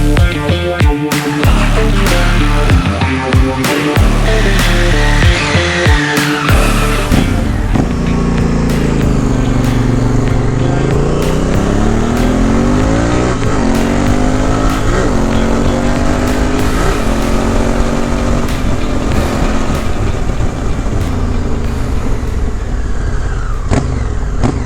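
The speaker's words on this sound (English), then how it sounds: "got on the gas to make sure the clutch wasn't slipping" Honda Africa Twin motorcycle fitted with a Magura hydraulic clutch, engine rising loudly through sustained acceleration with pitch sweeps as it pulls through gears, close and steady with no talk.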